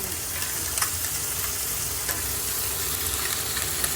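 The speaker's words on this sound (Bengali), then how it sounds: "ফুলকপিটা হালকা হালকা ভাজা করি গো" Cauliflower frying in a pan makes a dense, steady sizzle heard close up, with faint scraping and no talk over it.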